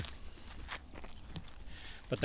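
Footsteps picked up by a small vlog microphone, a handful of soft, irregular steps on a hard surface, faint at first and closer and louder at the end.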